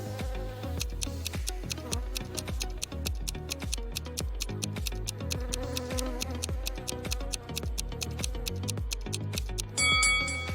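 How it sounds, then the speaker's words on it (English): Wasps buzz in a video game after a nest is disturbed, a dense, steady insect drone with a regular ticking pulse running through it, loud and continuous with no talking. "Betty stepped on a wasp's nest. Wasps were everywhere."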